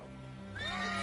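A horse in The Witcher 3 video game lets out a short, rising whinny, close and fairly faint, over a steady background of game ambience.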